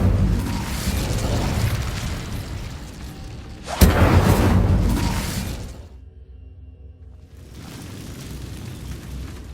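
An Incendio fire spell in Hogwarts Legacy goes off as a loud whooshing burst with a sharp crack near the middle, then fades into a hush before low game ambience returns.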